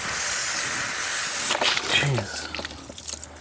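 Steady loud hiss of water or air escaping from a leaking tank inlet on a compound wash setup, cutting off about halfway as the fitting is tightened, leaving a low hum and brief speech.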